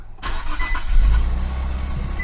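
An Infiniti Q60S, a salvage rebuild with a recurring check engine light, cranks and fires up close by, settling into a steady low rumble at idle with no talking.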